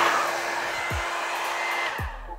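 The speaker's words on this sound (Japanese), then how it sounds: "ドライヤーをこう動かすことができます。" A hair dryer runs steadily and loudly from a BLUETTI split-type portable power station, drawing around 2000 watts, as a continuous broadband whoosh that briefly shifts near the end.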